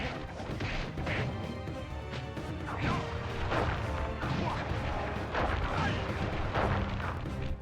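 Booming Chop attacks land repeatedly in Sly Cooper combat, a run of heavy thudding smashes and booming impacts over game music, moderately loud and fairly continuous.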